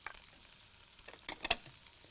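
Carrot and red and green capsicum sizzling in a stir fry pan, a soft steady hiss with faint stirring clatter and a brief louder burst near the end.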